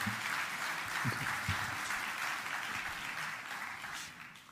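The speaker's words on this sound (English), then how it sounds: "I don't know if you can hear the people from the attendees clapping their hand." Attendees at a session of the WORLD FIRA 2023 conference clapping their hands after a talk, a steady, diffuse wash of applause heard at a distance and fairly quiet, tapering off toward the end.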